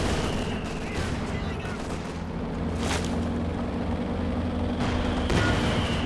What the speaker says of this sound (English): got the Maxim firing away, hitting the Pioneer squad.